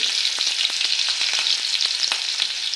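Garlic fries in hot oil with a loud, close, steady sizzle dotted with sharp crackles and pops, and no voices.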